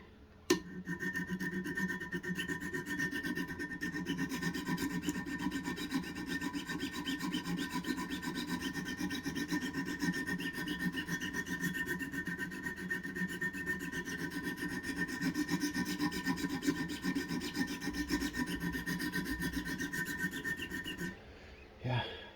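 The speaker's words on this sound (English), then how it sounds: "You can probably hear that the middle of the stone is worn out" Continuous rhythmic scraping of a knife blade stroked back and forth across a sharpening stone worn in the middle, on a Wicked Edge Pro-Pack III sharpener, steady and close, with a sharp tap at the start.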